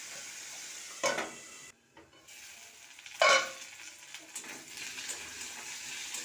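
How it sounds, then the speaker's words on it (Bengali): Potato pieces fry in oil for fish-head muri ghonto, a steady close sizzle broken by two sharp clatters of a utensil stirring in the pan and a brief quiet gap, no talking. "আলুটাকে হালকা করে ভেজে নেব"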